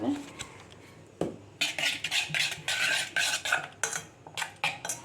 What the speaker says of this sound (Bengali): এটা ভালো করে আবার গুলিয়ে নিয়ে আমি দেখাচ্ছি।